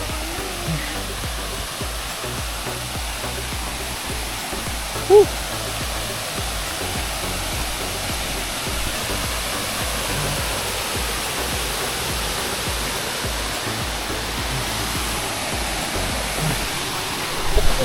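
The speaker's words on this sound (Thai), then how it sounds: "ก็ถึงแล้วครับ นี่ไง น้ำตกนางสวรรค์" Rushing water at Nang Sawan waterfall on a trail run course in Chawat, Nakhon Si Thammarat, a steady broadband roar filling the whole clip, with a brief whoop from a voice partway through.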